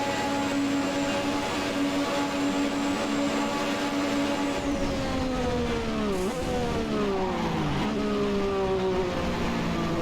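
A McLaren MP4/4 racing car in Assetto Corsa holds a loud, steady high engine drone, then drops through sweeping downshifts and revs as it brakes and changes gear, with no voices.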